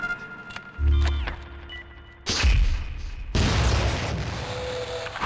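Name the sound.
grenade explosion from MULE launcher in video game Gunman Chronicles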